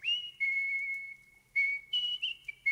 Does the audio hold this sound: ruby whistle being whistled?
yes